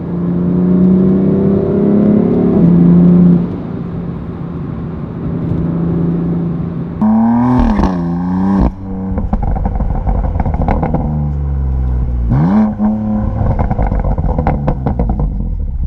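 BMW M4 Competition with the S55 engine, driven in its sportiest mode, droning loudly before rising through sharp revving surges with gear-change dips, heard close and alone.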